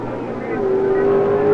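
Drag racing car on a single solo run down the strip, a steady loud engine roar that builds in pitch and volume, heard under an announcer's continuous commentary.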